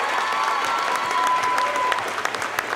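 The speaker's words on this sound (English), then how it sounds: "I want you guys to give a round of applause to all the amazing competitors we've seen tonight." Sustained audience applause and crowd noise fill a bodybuilding show venue after the competitors of the NPC Atlantic States, a dense steady roar of many hands clapping without pause.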